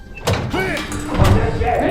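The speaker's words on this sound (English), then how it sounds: "Let's get that hatch open." A metal hatch door being opened in Call of Duty Vanguard, heard as a scraping, sliding clank with creaking tones amid combat ambience, with voices speaking over it.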